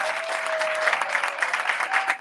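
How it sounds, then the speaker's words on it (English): At a Houston town hall meeting on city council districts, an audience claps for a distinguished panel, a full and even round of applause holding steady throughout, with a faint feedback-like tone beneath. "let's give another round of applause to the distinguished panel here"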